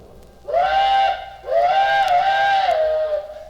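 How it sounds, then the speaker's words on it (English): A small railroad steam switching engine's whistle blows twice, a short blast followed by a longer one, with a faint chuffing rumble underneath. "there's a little old railroad switching engine a-sitting right by the mailbox. It was a-puffing and a-blowing off steam"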